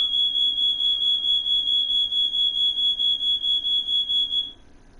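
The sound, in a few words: fire alarm beeping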